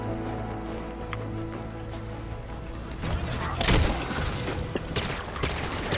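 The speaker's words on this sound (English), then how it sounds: "They're using light rifle." Light rifle gunfire in the Halo 5 Guardians online multiplayer match, with repeated shots cracking over dense game noise and a steady background hum.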